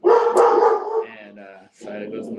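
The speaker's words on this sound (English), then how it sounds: "And sorry, there goes my dog again." A dog barks and yips in loud, close bursts, running together for about two seconds before a short pause and another round of barking.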